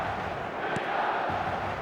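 Stadium crowd in a football video game, a steady broad roar of massed fans on match day with no break, loud and continuous throughout.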